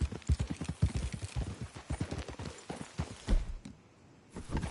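Quick rhythmic clip-clop of video game horse hooves trotting, fairly close, slowing and fading briefly near the end before resuming.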